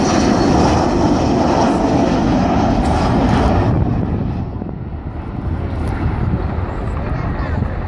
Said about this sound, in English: As she comes back, I think we'll see Phil Davies closing the bomb bay.